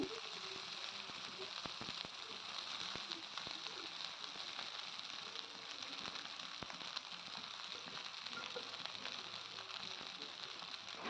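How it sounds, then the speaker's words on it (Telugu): Cooked rice being stirred into a hot tempering for mango pulihora, giving a steady soft sizzle and frying crackle with faint scraping throughout, fairly quiet and continuous. "ఇప్పుడు తాలింపులో బాగా కలుపుకోవాలి ఈ రైస్ని"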